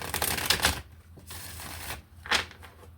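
Tarot cards being shuffled close by, heard as a few quick papery bursts of riffling separated by brief pauses, with no talking.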